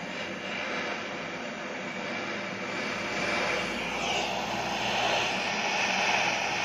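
A butane flame gun torch roars steadily as it is aimed at a wire to melt it, a loud, continuous broadband rush with slight swells, close by and with no talk over it.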